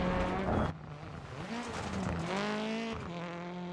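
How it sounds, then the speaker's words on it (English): Rally car in a video game bouncing over crests on a Finnish stage, its engine revving and dropping sharply with brief tyre squeals as it lands and slides, loud and close with no talking. "Car bouncing all over the place."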